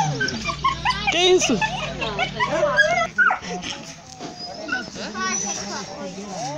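Puppies brought out for adoption whimper and yip in short, uneven bursts, with people talking over them.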